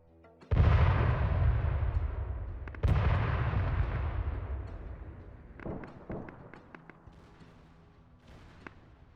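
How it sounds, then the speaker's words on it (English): Two deep artillery blasts in a WW1 battle video game, each a heavy boom with a long rumbling tail, followed by a scatter of sharper distant shots and pops. "More shots coming down"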